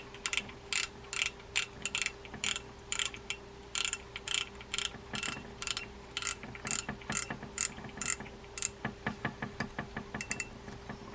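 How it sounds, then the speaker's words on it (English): Drag adjuster being tightened on a Shimano Sedona 2000F spinning fishing reel, a long run of crisp ratcheting clicks in rapid, fairly even bursts, close and alone. "Take your adjuster button, tighten that down."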